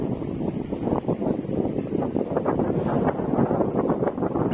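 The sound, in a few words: strong wind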